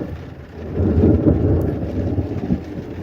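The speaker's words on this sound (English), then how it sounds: "we had a thunderstorm out here a few days ago, and I recorded some of the audio from it, some of the rain sounds" A thunderstorm recorded outdoors: steady rain hisses throughout while a deep rolling rumble of thunder swells in the low end and lingers for about two seconds, with no voices.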